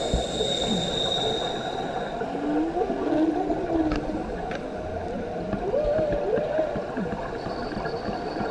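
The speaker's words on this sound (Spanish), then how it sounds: "tener las ballenas allí bailando y cantando" Whale song recorded underwater while scuba diving off Mozambique: rising and falling moans and whoops over a dense crackling background, fairly distant.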